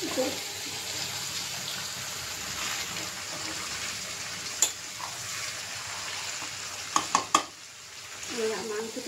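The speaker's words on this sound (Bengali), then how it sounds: "মাংস ফেরায় ফেরায় ভাজা হয়ে গেছে, তেল ছেড়ে গেছে, আর একটু ভাজা হবে।" Fatty mutton pieces sizzle steadily in released oil while being stirred, a continuous close frying hiss with a few sharp scraping knocks of the spoon against the pan.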